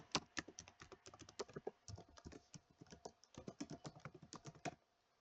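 Rapid, irregular keystrokes on a computer keyboard while an email address is entered into a sign-up form, close and crisp, in bursts with brief pauses and no talking.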